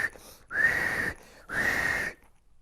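A loud whistle sounds in two long, steady blasts, each about half a second to a second, separated by a short pause and standing clearly above faint background.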